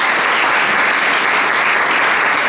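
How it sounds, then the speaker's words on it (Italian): Steady, dense applause from an audience welcoming the outgoing mayor at a town community address, loud and continuous throughout with no voices over it. "Michele Celentano, che accoglierei con un applauso ulteriore"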